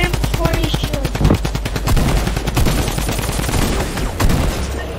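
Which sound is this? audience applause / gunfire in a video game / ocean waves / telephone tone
gunfire in a video game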